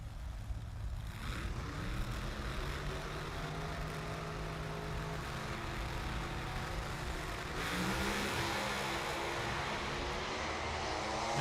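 Top Alcohol Dragsters driven by Tom Fox and James Stevens roar down the drag strip in a qualifying run, a loud, sustained engine howl that holds steady throughout and swells slightly louder near the end, with no voices over it.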